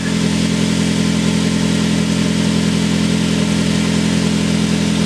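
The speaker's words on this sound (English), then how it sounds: "Gonna let it idle for a minute, get all the antifreeze out here." A turbocharged Mazda 3 engine idles steadily and loudly up close, a constant low hum with a broad hiss over it, running alone without pause.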